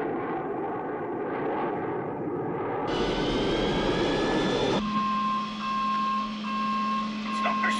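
Aircraft engines run at full power in a cockpit setting, making a loud, sustained roar whose pitch climbs partway through. A steady whining tone and a faint beeping then sit on top of it.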